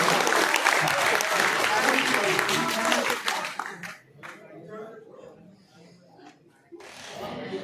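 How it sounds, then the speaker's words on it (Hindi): A theatre audience at a poetry evening in Lucknow breaks into loud, sustained applause, which fades after a few seconds into scattered claps and murmurs before swelling again briefly at the end. "आप जरा सा एक बार ताली बजा के इनका हौसला बढ़ा दीजिए।"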